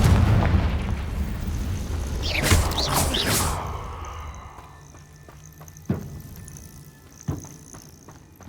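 A Confringo explosive spell from Hogwarts Legacy goes off as a loud, roaring blast that fades into a low rumble, followed by a couple of sharper, fainter impacts.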